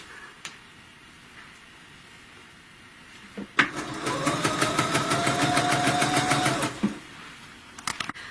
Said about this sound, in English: I'm going to finish going around the stocking